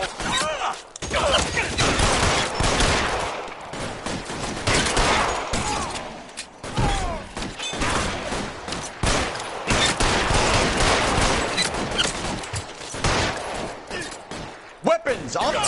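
Rapid gunfire rattles in L.A. Noire, dense volleys of shots crackling loudly and almost continuously with brief gaps, while a person talks over the shooting.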